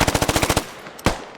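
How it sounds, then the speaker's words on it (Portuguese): Video game machine gun fire in a squad battle: a rapid burst of about nine evenly spaced loud shots, then a short pause and one more sharp shot, close and dry with no talk. "over the machine gun sound here"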